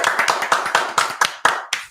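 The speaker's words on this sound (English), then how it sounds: "So nice, good applause." A few people clap briefly in a small group, sparse uneven claps close by, ending with a handful of single isolated claps after an England Euro 2020 anthem tier list.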